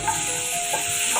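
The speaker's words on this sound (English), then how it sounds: "After melting a butter, add your veggies in it. Put all the veggies in the pan immediately and then" Mixed vegetables frying in melted butter in a pan, giving a steady bright sizzle with faint stirring scrapes, close and continuous.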